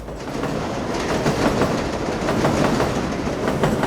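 A New York 7 train passes through Queens, loud and close, its wheels clattering in a rhythmic clickety-clack over a continuous heavy rumble, with no voices.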